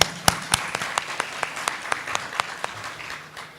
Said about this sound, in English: Let's give a round of applause for the ASEAN.